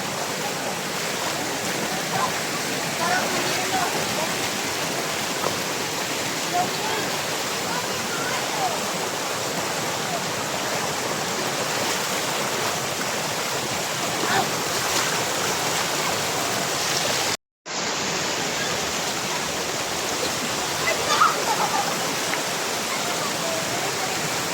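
Heaven Falls in Davao de Oro, a waterfall feeding a cold stream, gives a steady, full rush of falling and flowing water that holds evenly throughout, with one brief cut of near-silence partway through.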